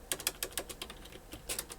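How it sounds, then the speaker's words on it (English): Close, quiet typing on a computer keyboard: quick, irregular clatters of key presses in short bursts. "I'm just typing."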